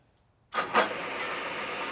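A used Bridgeport milling machine spindle starts up in reverse and runs at a steady, even whir, with a brief rattle from the unattached drawbar near the start. The sound follows a short silence and stays close and moderately loud.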